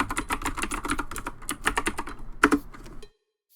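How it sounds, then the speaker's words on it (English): Rapid clicking keystrokes on a computer keyboard rattle in quick irregular bursts, close and crisp, with a couple of heavier key presses near the end before stopping abruptly into silence. "Ignore me doing all my fucking typing."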